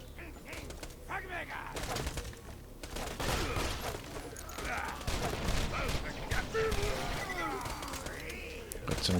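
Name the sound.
Grog Nozzle gunfire in Borderlands 2 video game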